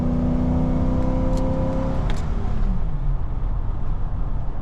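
A 1994 Ford Econoline van with a 5.8 V8 engine accelerates, its engine drone rising in pitch and then easing into a steady rumble with road noise, heard from inside the cabin without talk.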